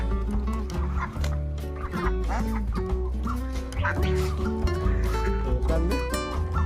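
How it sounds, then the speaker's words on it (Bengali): A flock of ducks in a Bengal village, dense overlapping loud squawking calls close by under background music. "কত হাঁস, এই বাইরে আটকে আছে, ঢুকতে আছে না ভেতরে।"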